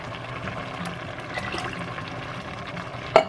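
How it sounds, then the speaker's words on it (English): Water pours steadily into a pot of Skyline-style chili with beef stock, a continuous liquid rush ending in a short clink near the close, with no voices. "adding in the rest of the water"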